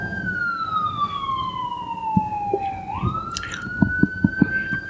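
An emergency vehicle siren wails past in a long descending then rising sweep, loud and fairly near, with a few knocking thumps underneath near the end.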